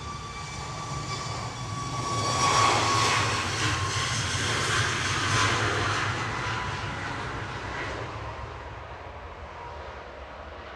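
A Ryanair jet bound for Palma de Mallorca departs Manchester Airport, its engine roar swelling to a loud peak and then fading away steadily into distant rumble.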